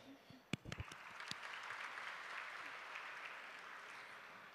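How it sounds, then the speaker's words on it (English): Audience applause at a grade 11-12 school recitation competition, a soft, steady wash of many hands clapping that follows a few sharper opening claps and carries on evenly at a distance. "Another round for applause"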